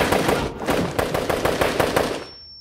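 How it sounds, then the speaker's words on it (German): Rapid automatic gunfire rattles in a fast, regular burst of about a dozen loud, close shots over two seconds, ending abruptly, in a scene at Swiss army military service. "Gott, wird geschossen!"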